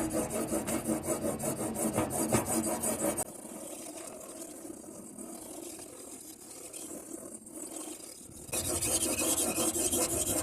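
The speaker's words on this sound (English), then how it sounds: "So I'm going to sharpen it out just like this." A knife is sharpened on an Anystone sharpening guide with steady close scraping and rasping strokes, which soften in the middle before loud continuous rubbing returns at the end.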